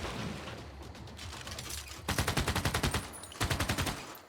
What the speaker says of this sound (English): so they're firing on my infantry army there